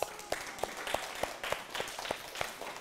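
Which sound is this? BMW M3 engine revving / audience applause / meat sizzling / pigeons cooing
audience applause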